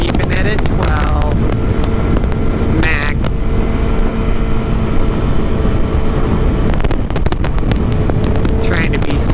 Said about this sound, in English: 6th gear, really getting her.